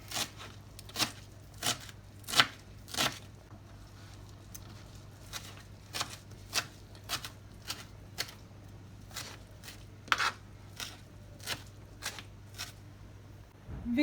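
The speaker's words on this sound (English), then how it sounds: "Start chopping it." Parsley or coriander, leaves and stems together, is chopped on a board with a knife, giving a quiet, close run of sharp, evenly spaced thuds about twice a second, with no talking.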